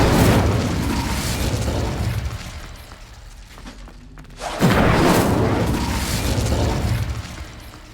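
An Incendio fire spell in the video game Hogwarts Legacy roars out as a loud burst of flame and rumble, dips briefly, then flares again in a second powerful blast, with no talk.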